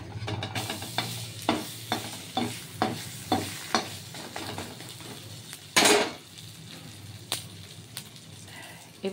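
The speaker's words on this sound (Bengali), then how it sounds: "নেড়ে চেড়ে ভেজে দেখাচ্ছি আপনাদের" Aloo paratha frying in butter in a pan, a steady sizzle under a regular series of sharp scraping strokes roughly every half second, then a loud clatter, with faint background noise.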